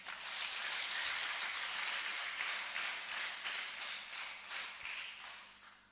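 An audience at a Rwandan church gathering claps together in a sustained round of applause, steady and fairly distant, fading gradually toward the end.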